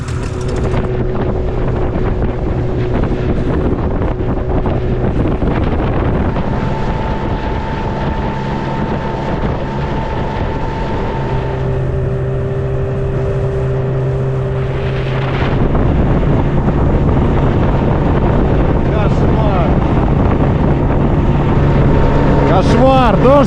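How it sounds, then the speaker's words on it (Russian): Strong wind and rain on open water, heard from a moving motorboat, roar steadily throughout with buffeting wind noise over a droning engine and a louder surge partway through. "Сильный ветер на воде, дождь."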